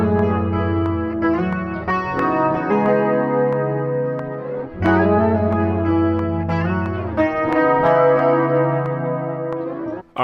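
Guitar loop built in Logic Pro X, playing a low-octave rhythm part: sustained, effects-laden electric guitar with chorus, echo and light distortion, looping steadily with a fresh attack near the middle and again toward the end, no voices.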